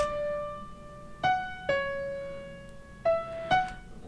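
A dry 4Front Piano software piano plays single notes with no effects for a trance track. Five or so clean, separate strikes are spaced unevenly, each ringing and fading in a quiet setting.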